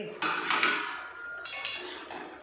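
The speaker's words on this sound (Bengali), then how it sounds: "আসো এবার একটু ঢাকনা সরায় দেখি কি পজিশন" Metal lid lifted off a pot of oil-free mixed vegetables cooking on the stove, giving a short clatter and scrape followed by a couple of lighter metallic clinks, close by.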